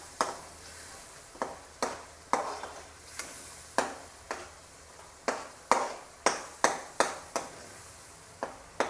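Tomato chutney is stirred in a pan, a series of sharp spoon taps and clinks against the metal, irregular at first then quicker and more regular toward the end, close and fairly quiet.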